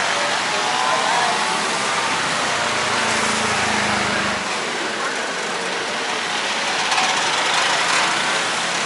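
A tuk tuk in Bangkok pulls away, its small engine revving and droning loudly for a few seconds before fading into steady street traffic noise.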